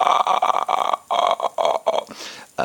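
A voice imitates the throat-clicking croak of the ghost from The Grudge, a rapid rattling series of guttural clicks in short bursts with brief gaps, close and fairly loud.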